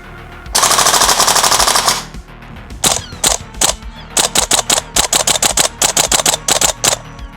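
A WE G36 gas blowback airsoft rifle fires a long, loud, rapid full-auto burst up close. It follows with many short bursts and single shots in a sharp, punchy rhythm, with no voices.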